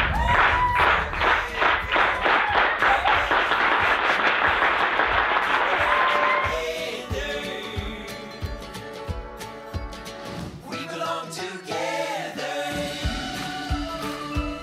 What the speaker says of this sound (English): Mark wants to get a clap going, and I'm gonna get it started.